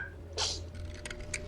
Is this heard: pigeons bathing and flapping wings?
no